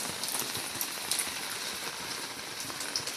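Steady outdoor rainfall makes a continuous hiss of drops on surfaces, with occasional louder individual splats close by. It is moderately quiet and unbroken, with no speech.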